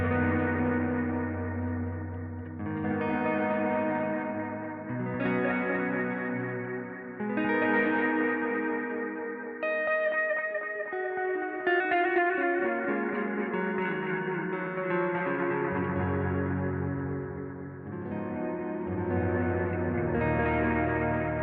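Big Time effects preset in its saturated state with analog voicing, processing a slow sequence of rich, swelling sustained chords with echo and chorus-like smearing, moderately loud and without speech.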